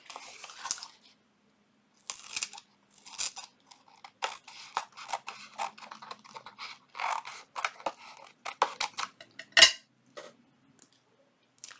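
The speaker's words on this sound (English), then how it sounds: "I'm going to turn it on the back side, and I am going to trim it." Scissors trim the edges of collaged paper for a junk journal, close up and quiet. Crisp snipping comes in short irregular bursts separated by pauses, with paper rustling and a sharper crunch near the end.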